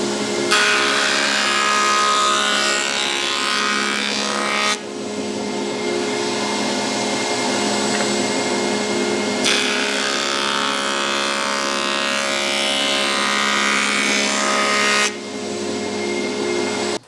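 A planer/jointer machining a board, with a loud steady cutting roar in two long passes separated by the lower drone of the machine idling between them.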